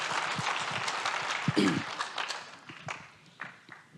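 Congregation at a church service clapping together, a dense burst of applause that swells and thins over a few seconds, with loose claps and shuffling at the tail.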